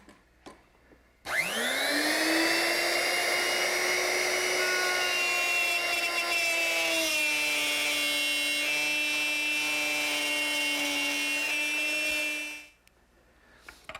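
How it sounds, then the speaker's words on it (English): Router with a straight cutter plowing a groove in wood for a candle stand, a loud whining motor that spins up sharply, holds steady for about eleven seconds with a slight change in pitch as it cuts, then winds down. "Now I'll plow a groove in and stop just a little bit short of this lip."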